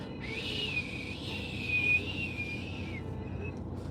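A steady high-pitched whistle from a new car's brakes, sustained for about three seconds over low road rumble, then cutting off.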